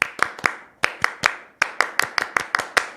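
Rhythmic Scout (Pramuka) hand clapping in a patterned beat, a group clapping together in quick bursts with short pauses between phrases, close and loud.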